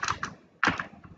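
A few quick keystrokes on a computer keyboard while entering an Excel formula, ending with a firmer press of the Enter key. The clicks come in short close bursts with a brief pause between them, and no voice is heard.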